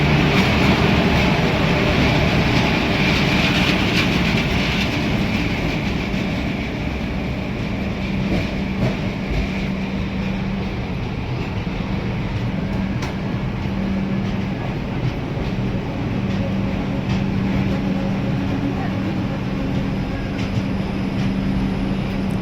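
A Guntur to Aurangabad express led by a WAG-9 electric locomotive rolls in beside an Indian railway platform, a steady loud rumble of wheels and rail noise lasting throughout, with a faint low hum and occasional clacks.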